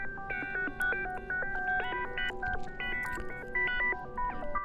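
Rhythmic, technological-sounding synth loop for dreamcore music, its stepped tones following the bass line's notes in a steady repeating pattern, fairly loud and alone with no voices.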